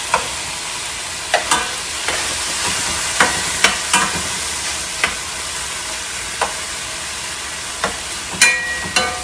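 Asian-style beef and vegetables stir frying in a pan, a steady close sizzle broken by scattered sharp clinks and scrapes of a spoon stirring through the mix, with no talking.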